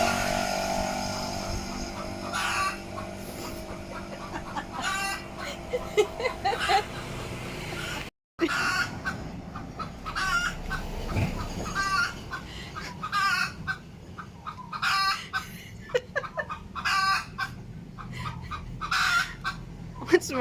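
A chicken clucks repeatedly and crows on Koh Lanta, Thailand, loud and close, over a busy outdoor background with a brief dropout partway through.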